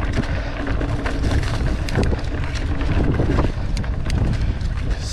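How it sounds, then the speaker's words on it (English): Strong gusts buffet a GoPro camera's microphone on a windy ridge, a loud continuous rumbling roar with crackling bursts and no talk. "So windy today."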